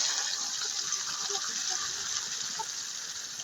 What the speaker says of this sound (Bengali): এখন তার ভিতরে সামান্য জল দিয়ে দিচ্ছি মশলাটা কষানোর জন্য।